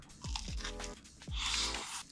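Crisp crunching bites into fried shrimp tempura batter, three sharp crunches followed by a longer crackly chew, close and fairly loud with no talking.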